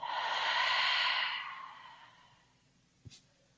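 A single deep, breathy exhale during a mindfulness breathing exercise fades out over about two seconds, close and soft, followed by a small faint click.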